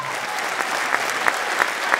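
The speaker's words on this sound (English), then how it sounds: "Have a round of applause for them." Audience applause at a middle school winter band concert, a steady wash of many hands clapping in a large room, moderately loud and continuous, with a few sharper individual claps standing out.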